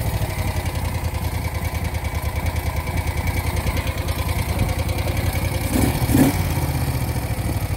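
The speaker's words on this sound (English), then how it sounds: "obviously I'm doing a cold start, so let's see" A 1970 Moto Guzzi Ambassador motorcycle idles after a cold start, a close, steady, lumpy engine chug with mechanical clatter, briefly swelling in a short blip near the end.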